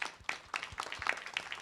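Audience at a student town hall gives a short burst of scattered, fairly quiet clapping from a small crowd, uneven and brief.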